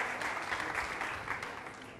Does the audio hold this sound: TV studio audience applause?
yes